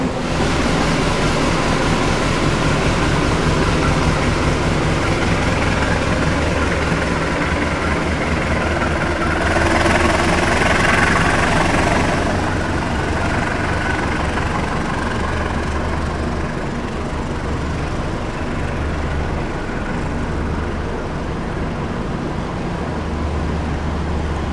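A CC 203 diesel locomotive, number 9511 from the Madiun depot, idles steadily at Kebumen station, a continuous low rumble running throughout with a brief swell of broadband noise around the middle and no talk.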